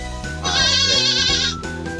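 Goats kept on a farm let out a single loud, drawn-out, wavering bleat lasting about a second, with quieter animal sounds before and after.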